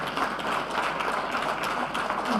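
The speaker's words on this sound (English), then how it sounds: "Let's give a huge round of applause" An auditorium audience at an economics conference applauds, dense, sustained clapping that stays loud and even throughout.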